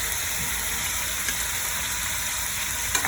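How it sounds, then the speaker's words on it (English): Diced vegetables sauteing in a little oil in a saucepan for a Mexican beef soup give a steady, moderately close sizzle and hiss that runs unbroken throughout, with one or two faint clicks and no talking. "now we're gonna put it in this this saucepan with a little bit of oil"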